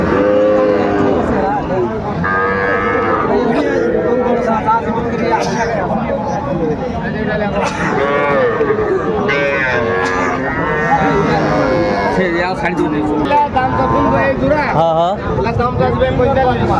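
Calves moo repeatedly and loudly at a busy cattle market in Dinajpur, with traders bargaining and crowd chatter close by throughout.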